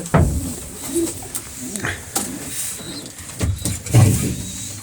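Pigeons coo softly in a coop, low throaty calls coming in a few separate bursts with quiet gaps, close by and alone with no talk.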